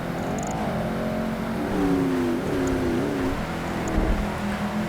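Corvette engine in Project Gotham Racing 2 racing in the rain, a steady loud drone with rising and falling revs as it shifts through gears, alone with no talk.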